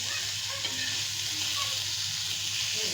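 Masala frying in a pan for a dosa filling, a steady, loud sizzle and hiss with faint spatula scraping beneath it, heard close up without speech.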